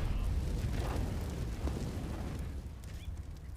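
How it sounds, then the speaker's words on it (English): A Molotov cocktail bursts into flames in Counter-Strike: Global Offensive during a match, giving a muffled whooshing rumble with a low boomy roar that slowly fades. "Molotov goes down here from Jax."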